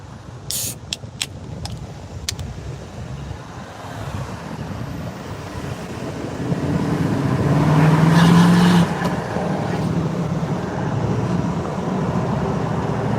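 A car with a Honda VTEC engine drives along, its steady road and engine noise swelling louder mid-way as the engine revs harder, then settling back to a constant drone.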